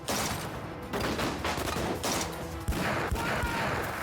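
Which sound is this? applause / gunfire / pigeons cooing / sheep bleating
gunfire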